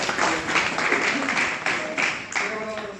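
An audience at a Dasara festival gathering in a temple hall in Jamkhandi breaks into applause, a dense wash of clapping with a few louder surges over about three seconds. A voice can be heard faintly underneath.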